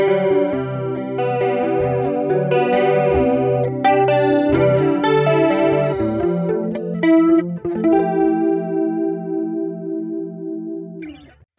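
An electric guitar runs through a Line 6 Helix with a CE1-style chorus into a Supro Ellipse cabinet simulation, playing loud, shimmering chorused chords and melodic lines that ring out and fade near the end, with no talking.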